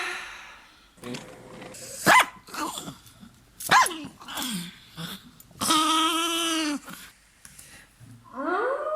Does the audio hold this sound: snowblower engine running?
no